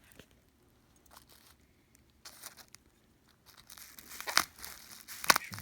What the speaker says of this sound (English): I'm going to cut carefully through this tape here.